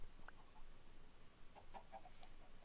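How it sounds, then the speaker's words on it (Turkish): Soft, quiet clucking of a chicken in a modded survival video game, a few short calls scattered over a low background hiss. "Tamam bir tavuk daha."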